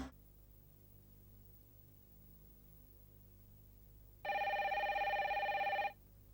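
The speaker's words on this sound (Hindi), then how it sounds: "मैं डॉक्टर देसाई को फोन करता हूँ।" A telephone rings in an indoor room, one continuous electronic trill lasting under two seconds that starts abruptly after a quiet hum and stops cleanly, with no talk over it.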